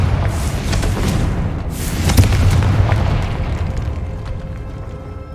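A Confringo spell explosion in the Hogwarts Legacy video game erupts as a broad, rumbling boom that swells and peaks midway, then slowly fades into a lingering low roar.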